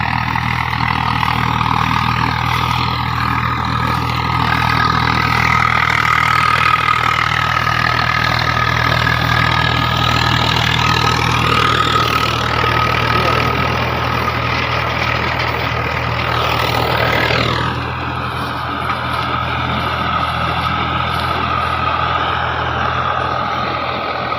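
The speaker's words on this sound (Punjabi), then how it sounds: "ਮੇਰਾ ਚੱਲਦਾ ਟਰੈਕਟਰ" A tractor pulling a super seeder sows wheat into standing straw stubble; its engine gives a loud, steady, close drone that shifts and eases slightly late on.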